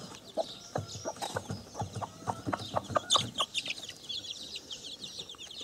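Mother hen clucking near her young chicks, a run of soft, irregular clucks and higher peeps close by at low volume, with no voices.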